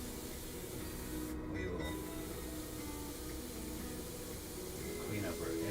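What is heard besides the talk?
airbrush spraying paint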